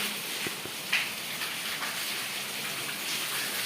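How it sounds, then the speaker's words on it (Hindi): Rain falls steadily after a long dry spell, a dense, even hiss close by with a few faint knocks and drips, heard alone without speech. "आज देखिए काफ़ी दिनों बाद बारिश भी हो रही है"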